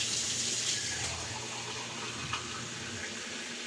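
Water is poured from a glass into a cooking pot of chicken, a steady close gushing stream that runs without pause.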